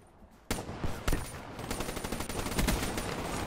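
Gunfire from a shooter video game breaks out suddenly: rapid bursts of sharp shots and sustained automatic fire, loud and dense, with no talking.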